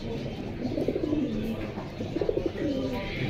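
Pigeons coo close by at a pigeon market in Jinjira bazaar, Keraniganj, two clear rolling cooing phrases one after another over a busy background murmur.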